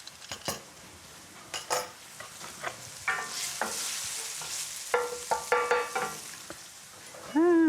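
Eggplant cubes toast and sizzle in a skillet, heard as a soft frying hiss broken by repeated clinks and scrapes of a utensil stirring against the pan, close and irregular, with a brief squeak at the end.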